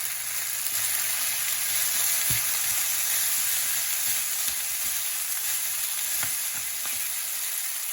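Ham frying in a wok with spaghetti noodles and stir-fry, a loud steady sizzle close up, with occasional light scrapes and clinks of stirring underneath, no voices.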